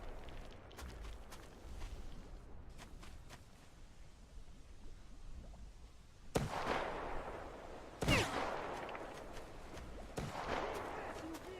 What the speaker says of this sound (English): that sounds like a sniper rifle